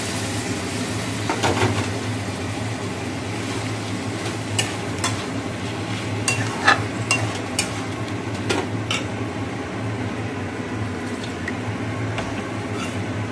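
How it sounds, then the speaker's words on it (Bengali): Soya chunks and potato being stirred into a pan of oil, with a steady low sizzle under intermittent scraping and clinking spoon strokes, moderately close. "এবার এটা দিয়ে দেবো সয়াবিন আর আলুটা।"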